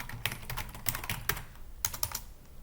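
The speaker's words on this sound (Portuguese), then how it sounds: "Deixa eu digitar." Close keyboard typing: bursts of sharp clicking keystrokes, some clustered and some spaced apart, over a low steady background hum, with no voices.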